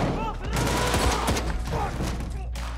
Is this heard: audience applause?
no